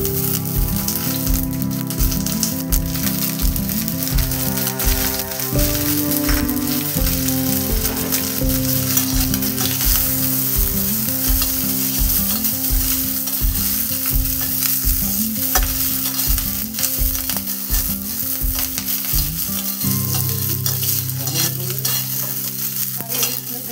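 Curry leaves, mustard seeds and dried chillies sizzle and crackle in hot oil in a pan, with a steady, close frying hiss and a regular rhythm of scraping stirs, heard alone without speech.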